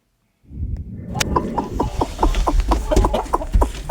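Speckled heritage hens cluck in a series of short, repeated calls, fairly close and steady after a brief silent start, with a rustling farmyard backdrop.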